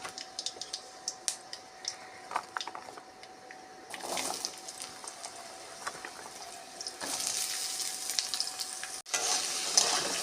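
Nigella seeds crackle and spit in hot oil in a wok, the opening tempering for a potato, green tomato and fish curry; scattered close pops and clicks build into a denser, louder sizzle in the second half, with no talking.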